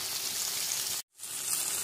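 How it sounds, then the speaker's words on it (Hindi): Fried potatoes and honey crackle and sizzle in a hot pan for honey chilli potato, a dense, close frying hiss that drops out for a split second before resuming. "हनी सबको हम चला लेंगे अच्छी तरह से इसमें।"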